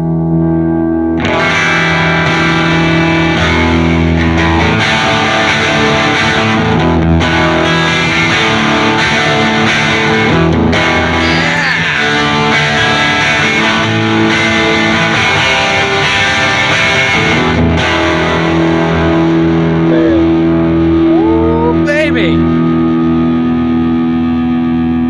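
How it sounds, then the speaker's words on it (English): An electric guitar played through an echo drive pedal rings out loud and distorted with repeating echoes, strummed chords sustaining over a steady backing. A sweeping slide near the end lasts about 25 seconds, with no voices. "Right, the echo drive, that has been part of my sound for years."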